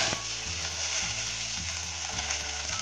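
Curry leaves fry in hot oil in a pan while cooking a red snapper fish gravy, giving a continuous, even sizzle and crackle under a steady low hum, with no talking.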